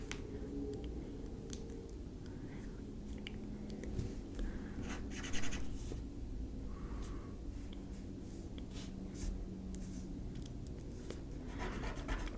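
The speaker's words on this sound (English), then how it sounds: "So I'm going to cross out that, and we'll write that." Pencil or pen scratching across paper during a writing lesson, quiet close strokes and scribbles as words are crossed out and rewritten, with soft rubbing and small taps in between.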